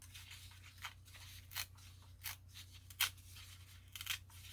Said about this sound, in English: I think I'm going to have to fold and hope I can tear.